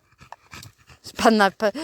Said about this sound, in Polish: Ach tak, szczęśliwy, szczęśliwy pies.